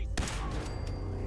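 A single sharp gunshot cracks in Fallout 4, followed by a brief rattle of further shots and a faint lingering tone, fairly quiet overall.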